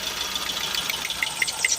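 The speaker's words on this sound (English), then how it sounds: "The engine is shaking, so I'm going to plug out." A Nissan B15 engine idles roughly with an ignition coil unplugged, a steady nearby hum with uneven knocks and faint irregular ticks.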